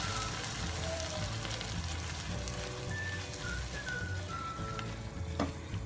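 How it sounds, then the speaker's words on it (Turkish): Bulgur pilaf with vegetables and minced meat is stirred in a pot after hot water is added, giving a close, continuous sizzle and bubbling with soft scraping stirs and faint whistling tones. "Şöyle karıştırıp"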